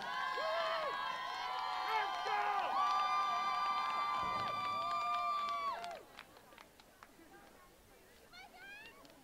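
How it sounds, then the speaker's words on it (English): Spectators cheer and whoop at a dog agility biathlon event, a steady crowd roar with sustained whistles under a commentator's voice that drops away into scattered, fainter shouts. "they're cheering like we are"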